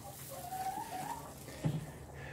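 Backyard laying hens give soft clucks and warbling calls, fairly close and moderately quiet, with one short louder cluck near the end.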